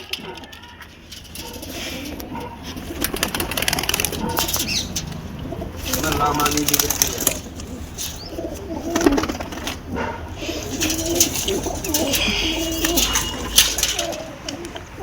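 Pigeons coo and flutter nearby in a steady, busy stream of bird sounds, with wing flaps and some faint background voices.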